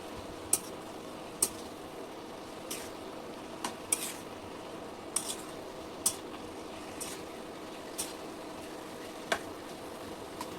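A spoon stirs chopped dill greens mixed with lentils in a pan, giving faint scraping and soft clicks that recur at irregular intervals over a quiet, low background with no talking.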